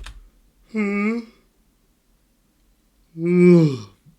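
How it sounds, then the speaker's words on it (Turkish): A person yawns twice after eating hot, spicy Indian street food, each yawn a drawn-out voiced exhale, the second longer and louder, separated by silence. "İyi kusma refleksimi esnemeye çevirdim."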